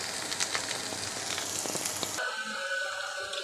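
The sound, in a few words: food frying in oil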